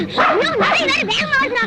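A voice imitates a dog with a rapid run of yelping barks and whimpery yips, close and lively, a few quick bursts.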